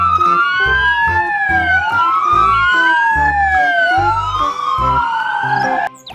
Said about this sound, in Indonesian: Wih, yang ini mobil polisi.